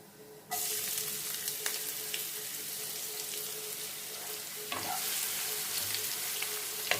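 Large onion added to a pan of hot oil with raw lentils and cumin, a sudden burst of bright sizzling that holds steady, with a brief stir and a fresh surge of sizzle near the end, no talk.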